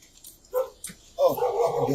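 A pit bull, German Shepherd and Rottweiler mix dog barks close by, two short separate barks followed by a louder, longer bout of barking and yelping.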